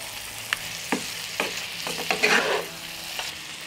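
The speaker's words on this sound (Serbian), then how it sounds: "Promešat ću i pržite još 1 minut" Zucchini frying in a pan sizzles softly while a utensil stirs it, giving several distinct scraping taps spread across the moment, close and fairly quiet.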